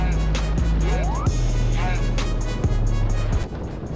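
Interior of a 2022 Kia Soul driving on the road, with a steady, loud low engine and road rumble throughout, shifting pitch as it drives on, with brief clicks and a drop in level near the end.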